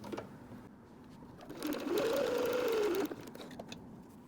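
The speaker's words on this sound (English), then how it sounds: "I'm going to sew all these together" A sewing machine runs in one steady burst of about a second and a half, stitching quarter-inch seams on quilt pieces for a cat pillow, close and moderately loud, with quiet room noise before and after.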